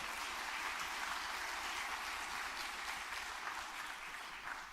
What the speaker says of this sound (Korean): 정말 큰 박수 한번 더 부탁드릴게요